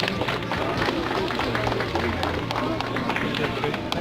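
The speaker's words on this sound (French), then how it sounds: "Applaudis." Audience applauding at a Lolita fashion show during a convention festival: steady, dense clapping from a crowd, continuous for the whole stretch with light background murmur.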